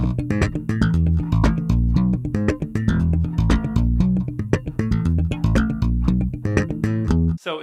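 A bass guitar plays a busy slap pattern, with punchy thumped low notes, sharp popped strings and percussive ghost notes in a fast, steady groove, loud and solo with no talking.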